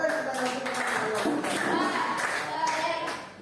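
A group claps in a rhythmic 'tepuk salut' applause routine during a teachers' academic coaching session, with voices chanting along over steady, fairly close claps.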